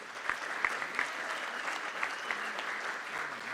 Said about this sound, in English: So let's give her a round of applause there.